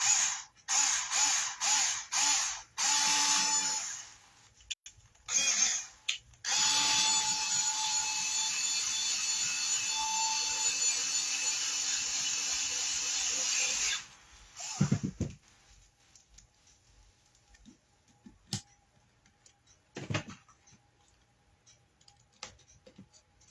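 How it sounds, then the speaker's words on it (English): A screw is driven into a picture hanger: quick clicking bursts give way to a long, steady, loud grinding stretch, then scattered faint knocks and handling noises. "I'm going to start my screw first"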